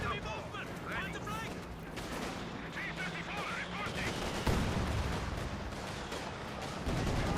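Tank battle in Company of Heroes 2 with a Panzer IV, T-70 and T-34s, distant cannon and machine-gun fire popping under steady commentary, one sharper shot standing out midway.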